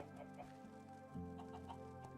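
Minecraft chickens clucking softly over a sustained tonal drone, a few quick low clucks that fade in and out at a quiet level, with no voices.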